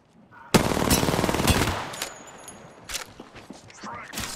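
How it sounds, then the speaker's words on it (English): Rapid automatic gunfire in a shooter video game, a loud close burst erupting after a quiet moment, followed by scattered shots and echoing cracks fading away, with voices chattering over it. "Taking fire."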